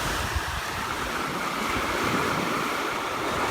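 Black Sea surf washes steadily onto a beach, a loud continuous rushing roar of waves with some wind noise and no voices.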